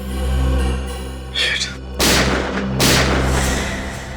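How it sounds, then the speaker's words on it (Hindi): Two or three heavy booming gunshots in a CID TV drama ring out over a low droning hum, loud and close, each followed by a brief noisy burst. "ये गोली चलने की आवाज।"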